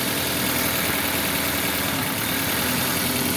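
Car engine idling with an unstable, surging idle, a steady dense mechanical drone heard close and alone with no voices, its level staying fairly constant over the short stretch.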